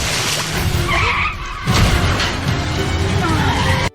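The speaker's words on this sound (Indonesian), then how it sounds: "Mobil musuh jungkir balik." An enemy car skids hard during a chase, tires squealing loudly over roaring engine noise, followed by a heavy crunching impact as it flips over, all close and continuous.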